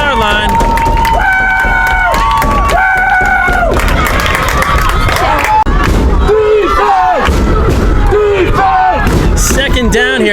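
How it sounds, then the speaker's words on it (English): Crowd at a youth football game between 10-year-old teams, SJN against Riverhead, roars and yells loudly while a voice talks over it, busy and continuous with shouts rising and falling. "The crowd really getting into it here as the Bulldogs are looking for a win."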